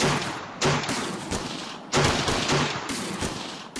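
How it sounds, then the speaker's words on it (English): Repeated bursts of gunfire from a 1946 armed siege of a jail in Athens, Tennessee: loud sharp cracks in quick volleys, echoing and overlapping over several seconds. "And gunfire erupts from the jail."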